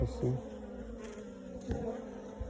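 Honeybees from a small swarm hum softly and continuously during a hive check, with faint handling knocks and rustles close by.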